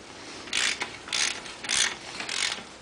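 A ratchet tightens bolts on a Ferguson TEF20 tractor engine in four evenly spaced clicking strokes, close and clear, with no speech.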